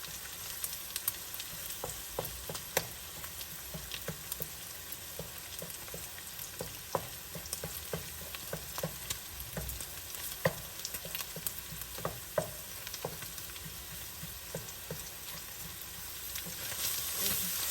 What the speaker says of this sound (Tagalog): gigisa lang po natin ng konti para magkakulay yung ating sauce